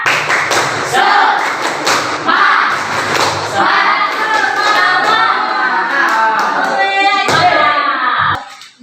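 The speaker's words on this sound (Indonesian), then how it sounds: "Ayo, tepuk semangat." A classroom group claps a rhythmic cheer for a student team, dense repeated hand claps and thumps running steadily for several seconds before breaking off near the end, with voices mixed in.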